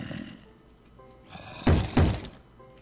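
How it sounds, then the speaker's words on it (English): Two heavy thuds of zombies pounding on a door in a survival video game, loud and close, spaced about a third of a second apart over a low rumbling background. "I apologize for the banging at the door, but I literally am not strong enough yet to deal with them."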